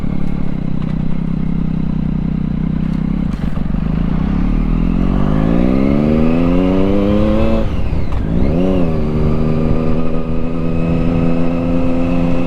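A Triumph Daytona 675 sports motorcycle accelerates on the road, its engine note climbing steadily in pitch, dropping sharply at a gear change, then rising again, loud and close with rushing wind.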